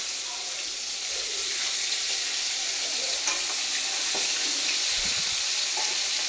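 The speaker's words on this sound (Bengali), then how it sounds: "মাছ ভাজা হচ্ছে" Fish frying in a pan for a breakfast meal with potatoes, a steady dense hiss of sizzling oil close by and nearly constant, with brief scrapes and clinks near the middle.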